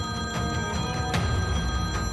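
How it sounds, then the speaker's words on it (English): A mobile phone rings inside a living room, with repeated electronic ring bursts over a steady background hum. "which rang out in the living room."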